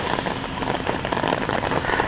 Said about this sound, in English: I wish it wasn't raining so hard